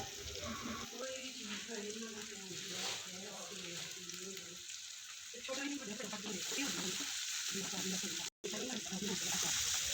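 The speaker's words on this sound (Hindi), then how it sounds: "मसाले को 3 से 4 मिनट के लिए बुनाई की है मैंने।" Masala roasting in a pan for a few minutes with a little water added, giving a steady, fairly quiet sizzle and frying hiss with some stirring, continuous throughout.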